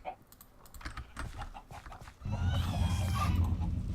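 Chickens cluck in the Minecraft Better Than Wolves mod, their clucks rising over a low steady background toward the end after a stretch of quiet clicking that sounds like keyboard typing.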